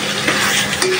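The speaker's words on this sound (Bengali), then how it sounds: "কড়াই কেমন নাড়াচাড়া করতেছে দেখেন" Country chicken being stirred in a kadai, a busy scraping and rattling of the spatula over a constant loud sizzle, close by and continuous with no talk.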